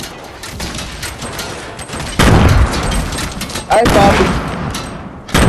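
Bursts of rapid gunfire from a Fortnite match crack and rattle in loud clusters, with several sharp volleys in a row. Players talk over the shooting.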